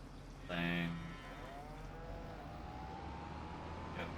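Cattle in the Farming Simulator video game give one loud, drawn-out moo near the start, with a second lowing call fading behind it, over a steady low hum of farm machinery.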